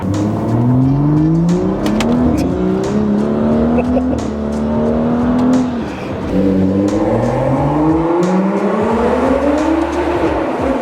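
A BMW 335i's N55 engine pulls hard through rising revs, shifts gear with a brief dip, then climbs again, loud and heard from inside the car.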